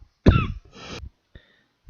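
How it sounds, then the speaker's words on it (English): A man coughs once, close and loud, with a harsh burst followed by a rougher throaty tail and a faint catch afterward. "you heard me start to cough"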